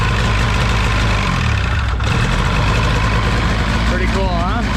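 An old Polaris snowmobile engine idles with a steady, rough mechanical drone, loud and close, and a voice talks briefly near the end.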